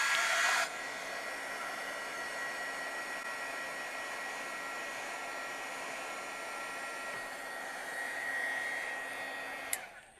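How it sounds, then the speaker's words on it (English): A heat tool blows steadily on craft foam to warm it for stamping, a continuous whooshing hum that starts with a louder burst and cuts off sharply near the end. "let's heat up the foam"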